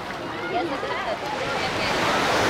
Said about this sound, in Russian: О, и волна.